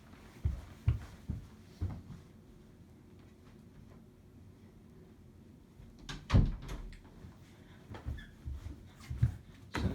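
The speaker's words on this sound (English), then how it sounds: "Now let me just shut this door." A door is shut with firm thunks and clunks during the reassembly of a 2005 Eureka Maxima vacuum cleaner. A cluster of knocks comes early, then one louder bang after a quiet pause, with no talk.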